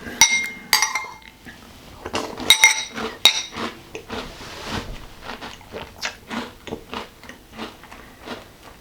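A spoon clinks against a bowl while someone eats Magic Spoon keto cereal, with crisp chewing and crunching between the bites. The sounds are close and irregular, a few bright metallic taps at first, then softer repeated crunches.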